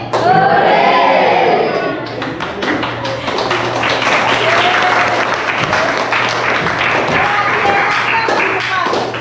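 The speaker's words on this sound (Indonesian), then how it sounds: "Injak bumi. Tepuk tangan." Children clap hands along to an Indonesian action song in a classroom, a dense patter of small claps mixed with stomping and singing voices, steady and fairly loud throughout.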